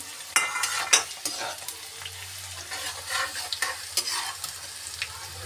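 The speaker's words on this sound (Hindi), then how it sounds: "हरी मिर्ची डाल दे" Four green chillies fry in a pan while being stirred, a close sizzle punctuated by several sharp scraping and clinking strokes of a spoon against the metal.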